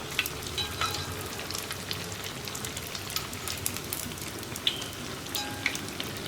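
Steady sizzling of chili fritters frying in hot oil in a flat pan, a continuous crackling hiss with occasional sharper pops, no voices.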